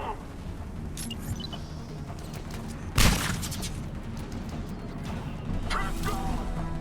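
Gunfire in the sci-fi shooter Mass Effect 3 during a fight against Reapers, mostly a dense rumbling battle bed with one loud sharp blast near the middle and heavier firing toward the end, while a voice speaks over the action.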